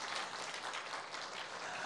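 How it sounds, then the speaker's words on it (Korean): A church congregation applauds, a dense, steady wash of many hands clapping together at even loudness for a couple of seconds. "박수를 좀 해주던지 정말"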